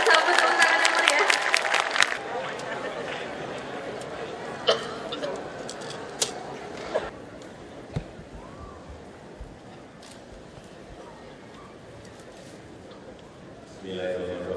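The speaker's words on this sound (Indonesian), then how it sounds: "Kita sambut tepuk tangan yang meriah." Applause from a university anniversary ceremony audience welcoming a guest's academic address, loud and dense for the first two seconds, then fading into scattered claps and murmuring under a speaking voice.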